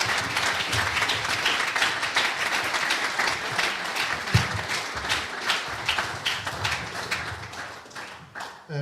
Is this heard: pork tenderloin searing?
no